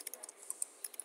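Rapid typing on a computer keyboard while entering a formula in Excel VBA, with a quick run of light, irregular key clicks that are close and fairly soft, with no talk.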